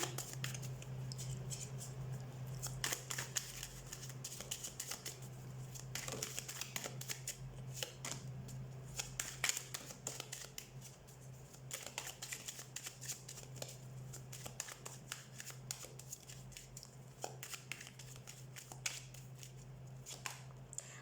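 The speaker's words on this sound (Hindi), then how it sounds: "हम कार्ड शफल कर लेते हैं।" Tarot cards are shuffled close by in a steady stream of soft riffling and papery patter, with flicks and taps over a low background hum and no talking.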